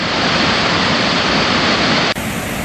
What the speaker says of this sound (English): There's those falls, and they're like crazy running today.